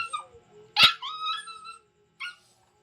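A dog whines and yips while waiting to be fed, with a few short high cries in a row, then a brief pause and one final whimper, close and clear with no talk.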